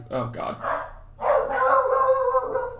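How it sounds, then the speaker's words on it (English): A dog barks several times in quick succession up close, then a louder sustained yelping or whining bark follows, with a person speaking briefly over the start. "That's my dog."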